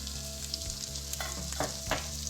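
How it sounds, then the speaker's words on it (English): Turmeric, cumin and chilli powder fry with onion ginger paste in a pan for a Bengali rohu fish curry, giving a steady close sizzle broken by a few scraping stirs, with no voices. "Fry them now."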